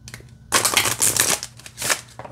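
A glossy oracle card deck, slightly stiff, is riffled and shuffled in quick close bursts of papery flutter, with brief pauses between the shuffles and no talk.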